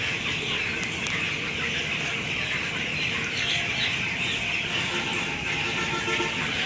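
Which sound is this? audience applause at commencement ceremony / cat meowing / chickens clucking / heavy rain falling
chickens clucking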